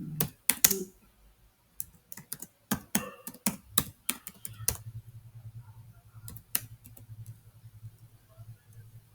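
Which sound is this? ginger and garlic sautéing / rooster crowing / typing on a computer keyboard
typing on a computer keyboard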